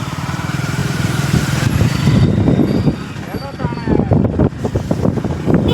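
A motorcycle runs close by with a steady low engine rumble and some wind buffeting, while people talk over it throughout.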